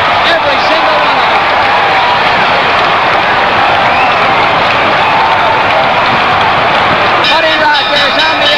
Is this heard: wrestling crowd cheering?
yes